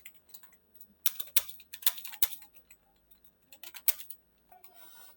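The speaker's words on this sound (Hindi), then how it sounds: "तो पहले हम 4 लाइन टाइप करके देखते हैं" Typing on a computer keyboard during an English typing test, with irregular bursts of sharp, close key clicks, some louder strikes, and brief pauses between runs.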